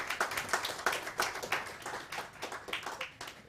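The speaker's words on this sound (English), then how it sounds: "let's give them a hand of applause" A conference audience at a women-in-business leadership event gives a round of applause. The clapping is moderately loud, with individual claps easy to pick out in a brisk, uneven rhythm that thins slightly toward the end.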